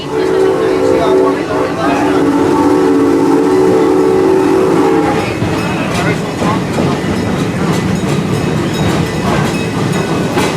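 A theme-park safari train whistle blows a steady, loud tone for about five seconds over rumbling rail noise, then the train clatters on alone.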